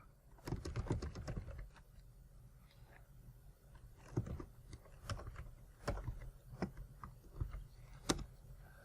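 Keys on a computer keyboard are typed in quick irregular bursts with short pauses, soft and close, with no talking.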